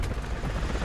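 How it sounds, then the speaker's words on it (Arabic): Helicopter in a video game, a continuous low rotor rumble with broadband noise, steady and fairly loud throughout this short moment. "صوت هليكوبتر"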